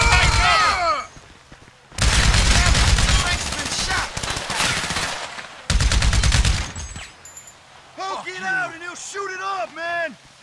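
Heavy automatic gunfire in GTA 5 Online comes in several loud sustained bursts of rapid shots. Shouting voices sit between and over the volleys.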